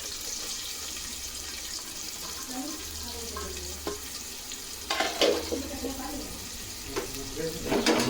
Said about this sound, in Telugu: అయితే వేడెక్కినాక ఇందులోకి ఒక రెండు ఉల్లిపాయలు అయితే వేసేస్తాము చూడండి